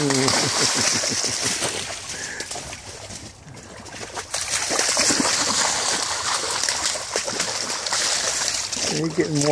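Boots splash and slosh through a water puddle in a continuous wet churn, fairly close, and a voice speaks over it now and then.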